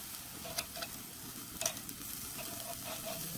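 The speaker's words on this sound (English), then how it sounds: "So now I'm going to move the steaks away from the fire." Steaks sizzling on a grill over an open fire, a steady close hiss with a few faint ticks and light scrapes as the meat is shifted, no voices.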